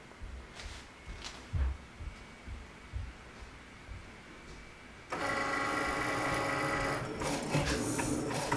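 A Cricut cutting machine feeds and cuts basswood for earrings: soft mechanical taps and shuffles at first, then an abrupt switch to a loud steady motorized whirring with a buzzing, printer-like drone, close up.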